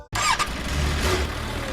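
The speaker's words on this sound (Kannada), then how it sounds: "ಅಯ್ಯೋ ಸ್ಟಾರ್ಟ್ ಆಗ್ತಿಲ್ಲ. ಬೈಕ್ ಕೆಟ್ಟೋಯ್ತಾ?" A motorbike engine fails to start, giving a short, close cranking burst that sputters for under two seconds without catching, heard on its own with no voices.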